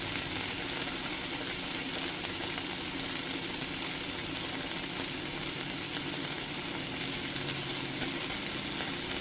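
Sliced bone-in beef chuck short ribs, LA galbi style, sizzle steadily in a hot pan, a dense and even frying hiss that carries on without a break and with no one speaking.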